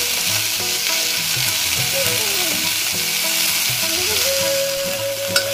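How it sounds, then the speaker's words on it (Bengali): Vegetables, rice and lentils sizzle steadily in a hot pan as they are sautéed and stirred, with occasional scraping of a utensil and faint background tones throughout. "আর তারপর এগুলো কষতে লাগবো আর কি, কষতে থাকবো।"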